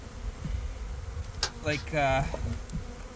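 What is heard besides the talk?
honey bees buzzing at spring colonies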